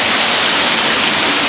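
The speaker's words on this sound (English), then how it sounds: "It's ice, man. It's hail." Hail hammering a car and a flag in a storm makes a constant loud rush of ice impacts, close and unbroken.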